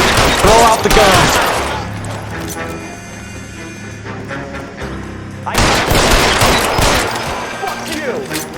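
Gunfire erupts in L.A. Noire, two loud dense bursts of rapid shots with a ringing lull between them, close and harsh, with a voice shouting over the action.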